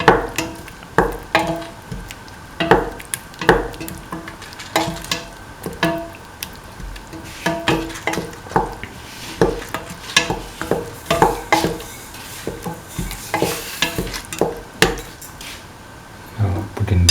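A spoon stirs salt through a mung bean and tomato stew, giving repeated sharp knocks and scrapes against the pot at an uneven, busy rhythm over a soft simmering hiss.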